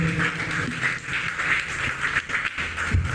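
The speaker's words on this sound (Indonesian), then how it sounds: "Tepuk tangan untuk beliau." An audience at an evening condolence gathering applauds a speaker with a steady wash of many hands clapping, fairly loud and sustained for several seconds without talk.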